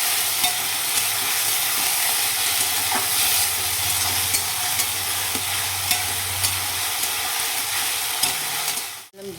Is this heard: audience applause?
no